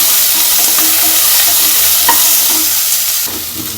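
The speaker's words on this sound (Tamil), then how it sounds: "ஆட் பண்ணிவிட்டு ஒரு 2 மினிட்ஸ் நல்லா வறுக்கணும்." Small shallots frying hard in a pan, a loud dense sizzle with occasional stirring scrapes, close and steady before easing slightly at the end, no voices.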